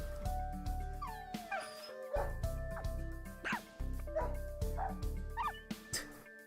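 A pack of dogs in the game Fate/Grand Order barks, yips and whines in a lively string of close calls, with short gaps between bursts, over a soft steady musical backdrop.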